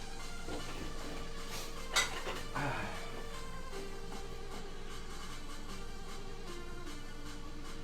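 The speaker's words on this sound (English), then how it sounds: "we're gonna actually stir this" A spoon scrapes and clinks against the inside of a cooking pot while curry is stirred, with one sharper knock early on, all fairly quiet over a steady kitchen hum, with no talk.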